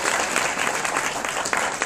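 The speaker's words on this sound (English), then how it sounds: "Let's give him a round of applause." An audience at a Sunday business event in Atlanta applauds, a dense, steady clapping that fills the room evenly for the whole stretch, with a few voices mixed in.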